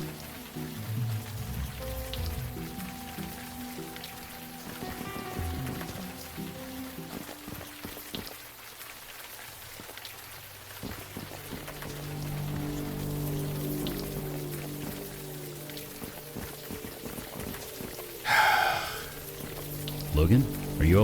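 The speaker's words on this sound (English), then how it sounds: "We're not going to learn anything out here in the rain." Steady rain falls throughout an outdoor scene in the adventure game Unavowed, a soft continuous patter under a music bed, with a brief brighter splash near the end.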